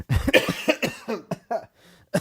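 A short fit of coughing, several sharp close hacks in quick uneven succession with brief gaps, heard alone without talk.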